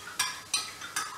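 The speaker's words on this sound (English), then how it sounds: "Give that a stir." A spoon stirring tomato paste and stock in a metal pot, three distinct sharp clinks of utensil against the pan in quick succession, close and fairly loud.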